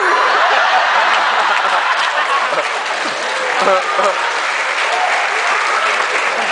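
Comedy-show audience applauding loudly and steadily, a dense wash of clapping with scattered chuckles mixed in throughout.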